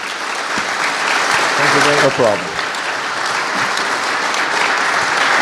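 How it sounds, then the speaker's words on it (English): A crowd at an evening event honouring a baseball great applauds, loud continuous clapping with a brief exchange of voices heard over it midway. "A round of applause for David."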